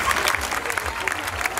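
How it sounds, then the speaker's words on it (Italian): Brief applause from an audience at a beauty pageant event in Italy, a burst of clapping with a voice or music faintly underneath, close and moderate. "Un applauso."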